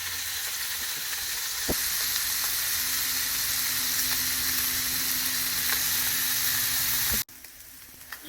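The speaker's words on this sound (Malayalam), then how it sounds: "ഇനി നമുക്കിത് ഫ്രൈ ചെയ്തെടുക്കാം ഞാൻ വെളിച്ചെണ്ണയിലാണ് ഫ്രൈ ചെയ്തെടുക്കുന്നത്" Sardines frying in coconut oil in a pan for a pickle give a steady, loud broadband sizzle with a single sharp click near the start, cutting off abruptly to quiet near the end.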